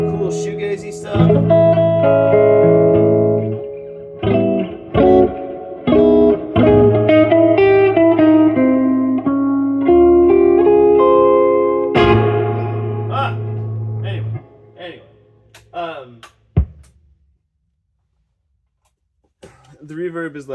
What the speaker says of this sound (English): The Reverb is like 10 miles long, and it's a great sounding amp.